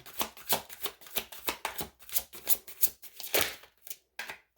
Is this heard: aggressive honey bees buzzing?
no